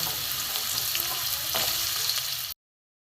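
Chopped potatoes sizzle and fry in a pan over low gas, a steady crackling hiss with soft stirring scrapes, close and continuous until it cuts to silence near the end.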